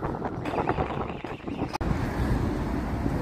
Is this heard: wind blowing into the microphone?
yes